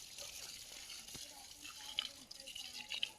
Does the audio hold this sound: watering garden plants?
yes